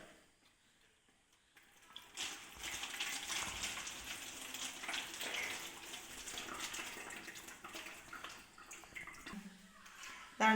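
Homemade fly-repellent liquid is poured into a plastic bag, a steady splashing, trickling stream that starts after a quiet moment and runs on close by for several seconds.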